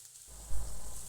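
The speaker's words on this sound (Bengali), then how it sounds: "চিংড়ি মাছ দিয়ে দিলাম।" Shrimp drop into hot oil with onions and a sizzle jumps up suddenly, a brief loud burst that settles into steady frying, heard close with no voices.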